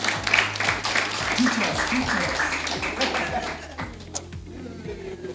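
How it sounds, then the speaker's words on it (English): Audience applause breaks out in a seminar hall for two people with a serious goal, a dense clatter of clapping that holds steady for several seconds while a voice talks over it. "Can we just applaud them?"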